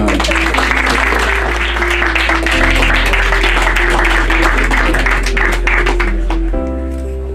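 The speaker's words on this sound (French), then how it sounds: "on peut l'applaudir" An audience at a press event applauds as tennis player Stan Wawrinka is introduced, steady dense clapping filling the room for several seconds under a low constant hum, tapering slightly at the end.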